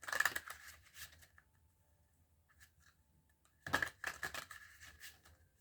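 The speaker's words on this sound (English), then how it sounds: "Couple more shuffles." Tarot cards being shuffled by hand, soft riffling bursts near the start and again later, faint and close with quiet gaps between.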